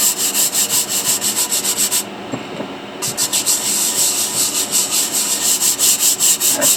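A stiff scrubber brush works back and forth over a fossil, loud close rhythmic rasping strokes with a one-second pause before the scrubbing resumes.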